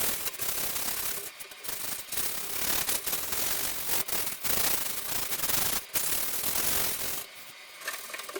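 Hand sanding along a painted MDF edge, a close, steady rasping rub in repeated strokes with brief pauses between passes.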